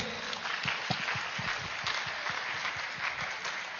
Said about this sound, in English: Can we clap for them please?